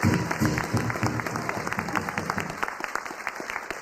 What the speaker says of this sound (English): Let's give our fabulous dancers one more round of applause.